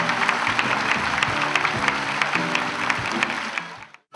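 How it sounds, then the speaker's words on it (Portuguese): An audience breaks into applause, a steady crackle of many hands clapping under some background music and voices, fading out abruptly at the end. "Aplausos, por favor."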